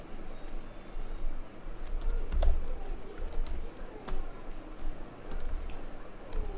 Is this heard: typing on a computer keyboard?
yes